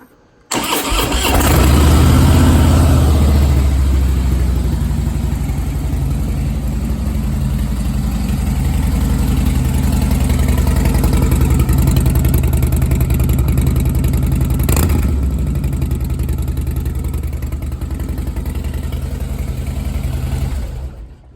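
A Harley-Davidson motorcycle at a dealership cranks and fires up loudly, then settles into a steady, deep rumbling idle that runs on for about twenty seconds, close and alone, with a brief click partway through.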